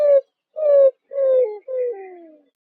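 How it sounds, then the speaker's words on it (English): Roadrunner call: four low, cooing notes spaced about half a second apart, each sliding slightly downward and the last trailing off, clear and close against silence. "The roadrunner is a bird which spends more time running than flying."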